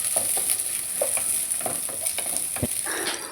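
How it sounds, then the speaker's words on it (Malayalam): Onions and green chillies sauté in coconut oil in a pan, with a steady close sizzle broken by scraping stirs of a spoon, and no talking. "നല്ലോണം വഴറ്റാം."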